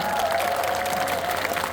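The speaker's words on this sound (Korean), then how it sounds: "오늘 박수 한번 부탁드리겠습니다" Steady applause from an outdoor concert crowd, dense and continuous clapping filling the whole moment at a loud, even level.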